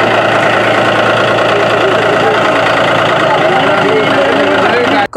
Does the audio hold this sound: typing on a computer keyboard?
no